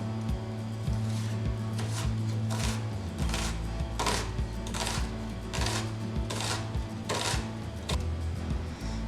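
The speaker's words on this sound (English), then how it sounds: "So let's start cutting now." A knife chops repeatedly on a chopping board with a steady run of crisp, close taps over a constant low hum in a kitchen.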